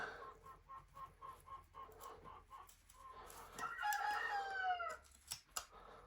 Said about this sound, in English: The roosters and the hens.